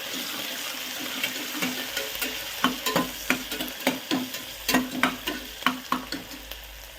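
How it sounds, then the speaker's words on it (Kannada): Mint leaves and green chillies fry in a pan for egg biryani, with a soft steady sizzle. A spoon stirs them with a series of rhythmic clinks and scrapes. The sound is close and fairly quiet. "ಪುದೀನ ಸೊಪ್ಪು, 4 ರಿಂದ 5 ಹಸಿಮೆಣಸಿನ್ಕಾಯಿ ಹಾಕಿ ಫ್ರೈ ಹಾಕ್ತೀವಿ."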